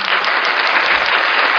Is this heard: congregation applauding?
yes